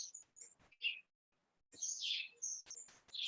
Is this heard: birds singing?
yes